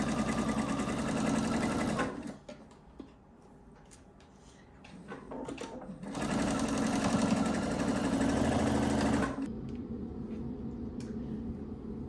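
A sewing machine bastes a dress bodice onto its skirt, running in two steady, close bursts of rapid stitching separated by a quieter pause with faint handling clicks.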